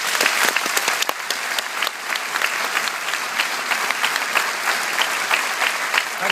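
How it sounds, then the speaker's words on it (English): An audience at a citizenship oath-taking ceremony in Dublin gives a vigorous round of applause, close and steady throughout with distinct individual claps standing out. "I'd ask you all to give Catherine a vigorous round of applause"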